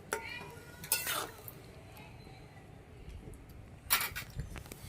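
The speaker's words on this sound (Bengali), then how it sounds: "একটু নেড়ে দেবো" Cauliflower stalks with salt are stirred in a pot, giving two short bursts of scraping and clinking around the first and fourth seconds over a quiet background.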